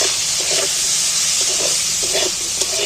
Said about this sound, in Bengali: আমি পেঁয়াজগুলো সব তুলে দিচ্ছি পেঁয়াজের সাথে চার পাঁচটা কাঁচা লঙ্কা দিয়ে দিয়েছি